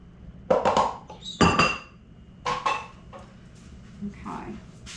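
A cooking pot is shifted off a stove burner, giving a few sharp metallic clanks and scrapes in short bursts, close by, with quieter clinks after and a voice nearby.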